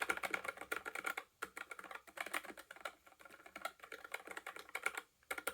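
Typing on a NuPhy Air75 wireless mechanical keyboard with red switches, heard up close. Bursts of quick, light clacking keystrokes are broken by short pauses. The sound is fairly quiet, and no one talks.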